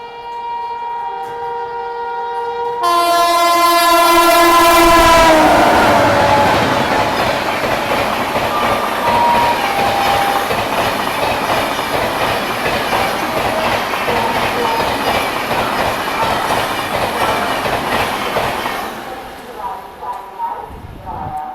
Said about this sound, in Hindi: तो भुवनेश्वर तेज राजधानी अपने को यहाँ पे ओवरटेक कर रही है।